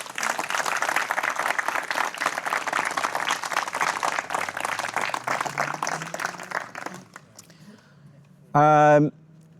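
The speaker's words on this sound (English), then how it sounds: "So we just give everyone a big round of applause" An audience at a Club Triumph 10CR drivers' meeting gives a big round of applause, dense clapping for about seven seconds that fades out, followed by a short tonal sound near the end.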